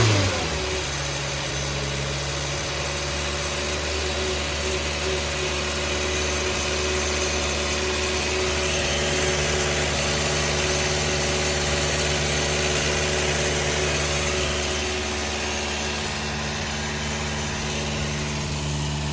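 A Renault 4 Alpine engine idling after being restarted from long storage, a steady, even mid-pitched hum with a constant drone, close and continuous for the whole stretch with no voices.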